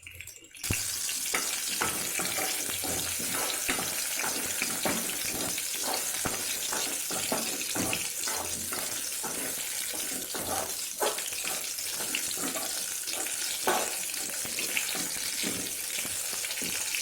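Onion, garlic and chilies sauté for garlic chutney in a pan, a continuous sizzle and frying hiss broken by irregular stirring scrapes and clinks, close and steady with no talking.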